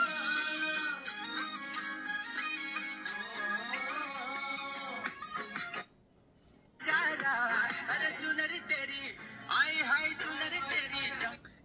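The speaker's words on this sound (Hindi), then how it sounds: "मैं आपको गाना भी सुना देता हूँ।" Music playing from a Samsung S23 FE phone's loudspeaker, a song with vocals and beat, bright and somewhat tinny, loud and continuous, with a short silent gap partway through before the music resumes.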